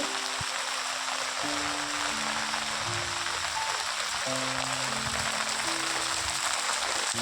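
Continuous monsoon rain patters on an umbrella and the ground while someone walks outdoors, an even, close, unbroken hiss of drops with faint low tonal sounds underneath and no speech.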